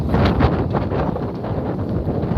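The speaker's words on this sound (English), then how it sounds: "Woo, it's windy." Strong wind gusts buffet outdoors in a backyard with paving stones, roaring in uneven rushes close to the microphone with no talk.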